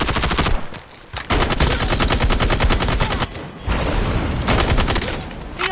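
HSO shotgun gunfire in a video game, loud and close, in long dense bursts of rapid rhythmic blasts separated by brief pauses.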